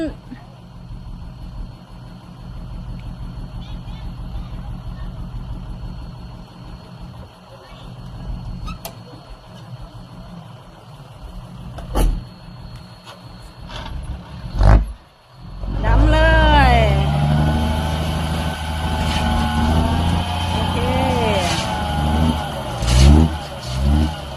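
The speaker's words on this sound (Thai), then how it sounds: "เห็นรถไถมาดัน" A tractor's engine rumbles at mid distance while it pushes soil, then revs louder and strains near the end, with people talking at times.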